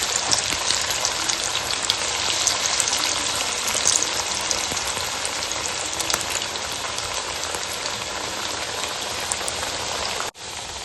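Kothimbir vadi, coriander fritters, deep-frying in hot oil on a high gas flame, giving a steady, dense sizzle and bubbling that runs loud and unbroken almost to the end, then cuts off abruptly.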